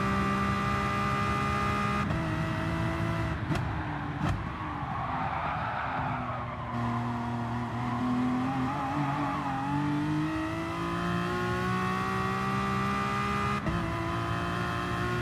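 Aston Martin DP100 VGT race car in Gran Turismo Sport, its engine a loud, sustained high-pitched drone that rises and falls with throttle and gear changes, with occasional brief tire-squeal accents, throughout.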